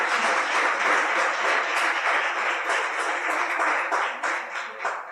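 Church congregation clapping in praise during a sermon, a dense, loud and continuous wash of many hands that stays steady throughout and eases slightly at the end.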